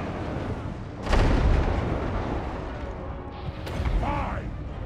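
A flame cannon firing in a fantasy strategy video game, a heavy blast followed by a roaring, rumbling burn, with a second burst and mechanical creaks amid ongoing battle noise.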